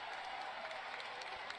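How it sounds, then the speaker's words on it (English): A boxing arena crowd at a YouTubers versus TikTokers main event applauds in a dense, steady wash of distant clapping and crowd noise throughout. "The crowd showing their approval and their appreciation."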